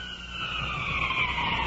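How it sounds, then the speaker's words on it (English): A distant ambulance siren wails in a steady rising-and-falling tone from a 1950s emergency call scene, moderately loud and alone with no talk. "In the distance, the ambulance."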